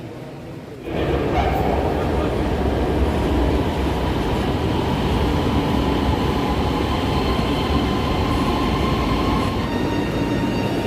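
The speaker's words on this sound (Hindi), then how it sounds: "अभी इधर को ट्रेन आएगी।" Lahore Orange Line metro train pulling in at the platform, a loud sustained rumble and rail hiss that starts abruptly and holds steady, with faint wheel squeal and some background voices.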